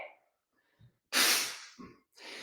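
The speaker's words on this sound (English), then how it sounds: "it's a sharp exhale because that type of breathing creates intra-abdominal pressure" Sharp, forceful breath exhales during a weightlifting set, short noisy bursts close to the mic separated by quiet gaps.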